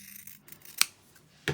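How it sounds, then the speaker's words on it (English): Scissors cut quilting fabric along a sewn line for half-square triangles: two short, crisp snips, the second louder, in an otherwise quiet room. "Then you're going to cut right down that line"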